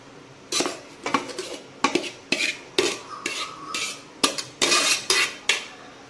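Homemade Hyderabadi biryani rice is stirred in a pot with a metal utensil, giving a series of close scraping clinks and knocks in an irregular rhythm, with no talking.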